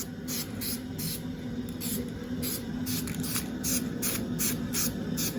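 An aerosol spray can puts a coating onto a surface, giving a near, steady hiss in a string of bursts with a few short breaks, and nobody talks over it.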